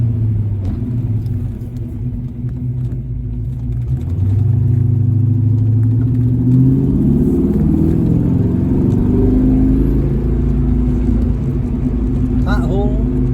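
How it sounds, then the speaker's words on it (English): A 1970 El Camino downshifts into first gear and accelerates, its engine rumble swelling in pitch and loudness over several seconds, heard from inside the cab. "Let's downshift into first."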